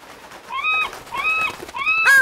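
Seagulls call near the shore in an animated children's story about a mola fish, giving three rising, whining cries in a row, fairly loud and close, with no talk.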